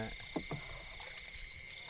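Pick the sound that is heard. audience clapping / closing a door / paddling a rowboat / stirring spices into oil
paddling a rowboat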